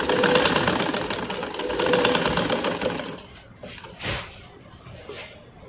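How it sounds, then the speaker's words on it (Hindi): A sewing machine stitches elastic onto a homemade bra, running in a fast close rhythmic whir for about three seconds before stopping, then a few soft handling sounds follow. "सिलाई चलाएंगे।"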